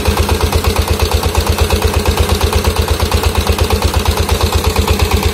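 A 20 PK diesel engine drives a 6-inch water pump, chugging loudly and steadily with a fast, even thump close by, running alone without talk.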